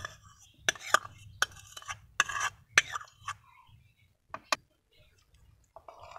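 Egg being mixed into flour dough in a bowl for an egg paratha, with several sharp clinks and scraping stirs in irregular bursts, fairly close, with quiet pauses between.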